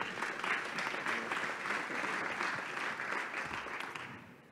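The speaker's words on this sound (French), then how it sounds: "Sous vos applaudissements évidemment." Audience applause welcomes a startup pitch speaker onto the stage at the Meet the Big business startup day event, a steady dense wash of clapping filling the room before tapering off at the end.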